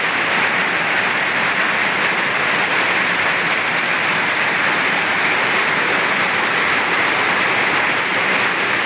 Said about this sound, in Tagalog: lumakas ano, na po yung ulan